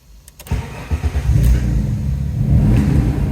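Alfa Romeo GTV V6 Cup Limited Edition with 70,000 miles starting up: starter cranking, then the engine catches and revs, settling into a loud, steady close-up rumble.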